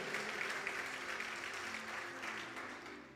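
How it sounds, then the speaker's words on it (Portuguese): A church congregation applauding during a family service, a dense continuous wash of many hands clapping together, steady and full throughout, slowly easing toward the end. "Você pode aplaudir o Senhor? Vamos lá, faça isso mais uma vez com alegria"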